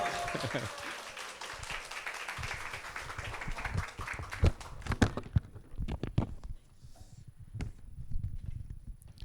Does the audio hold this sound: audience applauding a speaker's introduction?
yes